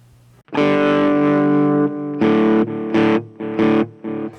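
Loud distorted electric guitar through a NUX Mighty Lite BT modeling amp with a crunchy overdriven tone plays a long sustained chord, then several short choppy stabs in a broken rhythm.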